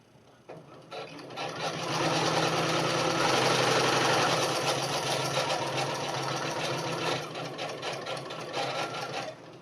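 A sewing machine stitches a fabric face mask in one continuous run, its motor whirring steadily with a rapid mechanical needle chatter close by, starting after a brief quiet moment and holding to the end.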